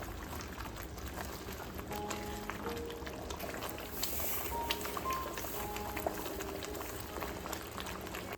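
A curry of water, chilli powder, coriander powder, garam masala, salt and turmeric boils in a pan, giving a steady, close bubbling and popping that carries on without a break.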